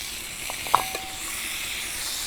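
Boiled vegetable stalks gently frying in a pan, a steady low hiss of sizzling with a couple of faint clinks from the pan near the start, no talking.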